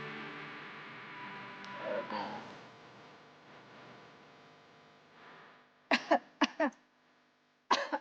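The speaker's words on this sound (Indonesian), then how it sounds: "Apaan sih batuk-batuk mulu dari tadi?" A few sharp coughs come in quick bursts near the end, after a stretch of quiet murmuring and rustling.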